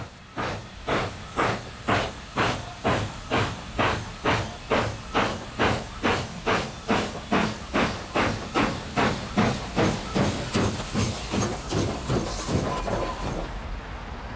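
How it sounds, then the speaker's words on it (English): A Southern Pacific Daylight steam locomotive moves slowly through a yard, its exhaust chuffing in a steady, evenly spaced rhythm with hissing steam, loud and close, the beats blurring slightly toward the end. "This view shows the drivers as the train moves slowly through the yard."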